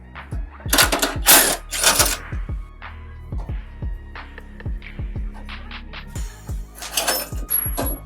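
A wrench works loose a 17 mm bolt on a Vespa LX Facelift scooter engine, giving a quick series of close metallic clicks and ratcheting taps in bursts, with no speech.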